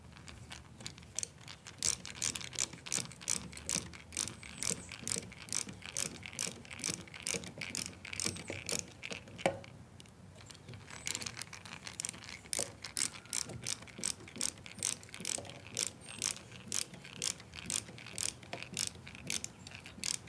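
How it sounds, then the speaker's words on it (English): Screws driven into a wooden strawberry bed cage, giving a steady, evenly spaced clicking ratchet-like rattle throughout, close and moderately quiet, with no voices. "now let's drive some screws in."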